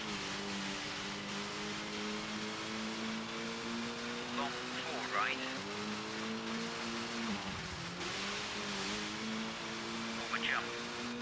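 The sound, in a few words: rally car engine in Colin McRae Rally video game, PlayStation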